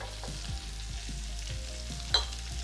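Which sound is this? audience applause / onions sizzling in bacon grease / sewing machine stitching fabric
onions sizzling in bacon grease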